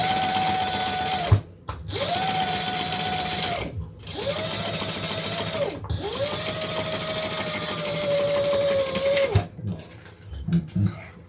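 A sewing machine basting fabric runs in several loud bursts, each a steady mechanical whir of rapid stitching, separated by short pauses and ending with quieter handling noises.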